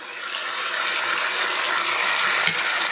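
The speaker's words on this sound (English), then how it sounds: "gonna go ahead and add the ginger in now" Ginger, garlic and water chestnuts hiss and sizzle steadily in a hot pan, a continuous bright frying crackle with a faint stir knock near the end.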